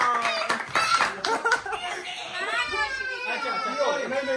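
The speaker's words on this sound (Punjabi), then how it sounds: "ਤਾਲੀਆਂ ਮਾਰੇ ਸਾਮਾ ਤਾਲੀਆਂ ਮਾਰੇ" Hands clap in a quick, uneven burst at a child's birthday celebration, with children's and adults' voices chattering and calling over and after the clapping.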